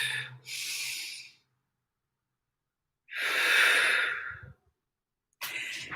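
Slow, deep breaths come close and alone: an exhale, a long pause, a fuller breathy inhale, and the start of another breath.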